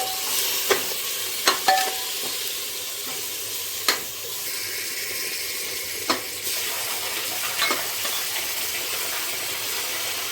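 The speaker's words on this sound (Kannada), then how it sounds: "ಇದು ಮಸಾಲೆ ವಾಸನೆ ಚೆನ್ನಾಗಿ ಫ್ರೈ ಆಗಬೇಕು, ಆವಾಗ ಟೇಸ್ಟ್ ಚೆನ್ನಾಗಿರುತ್ತೆ ಟೊಮೊಟೊ ಬಾತ್." Spices, chilli powder, green chillies, ginger, garlic and tomato paste fry for tomato bath, with a steady sizzle and scattered sharp clinks of a spoon stirring against the pan.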